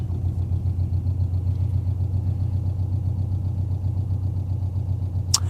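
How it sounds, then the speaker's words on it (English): A car engine from a new engine build idles steadily after a timing tensioner jump and retime, a low rumble carrying a faint, regular ticking that may come from the exhaust or a bent valve. "I don't know if you guys can hear it, that clicking sound. I'm pretty sure that is exhaust"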